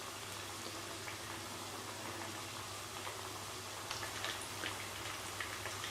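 Four spicy fish nugget pieces frying in a pan of hot oil give a steady, dense sizzle and crackle with scattered pops, close and continuous throughout.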